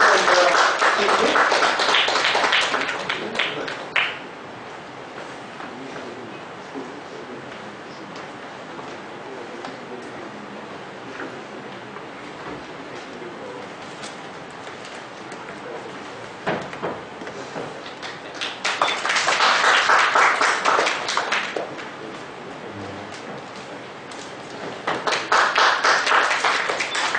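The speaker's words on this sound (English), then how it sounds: "Please give a great round of applause to the speaker and the chief guest." Seminar audience in an auditorium applauding the speaker and chief guest at an inaugural session, bursts of loud clapping at the start and again later, separated by a quieter stretch of scattered room noise.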